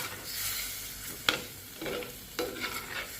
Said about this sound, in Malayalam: പനീർ ചേർത്ത് ഒന്ന് നന്നായി മിക്സ് ചെയ്തെടുക്കാം